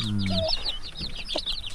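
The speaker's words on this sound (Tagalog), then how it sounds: "Ito rin ay Manok." A farmyard chicken clucks close by in a quick series of short, bright calls with no voices over them.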